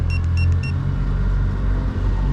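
Yamaha F300 outboard motor on a boat speeding up, a loud, close, deep rumbling drone with a few faint higher tones near the start.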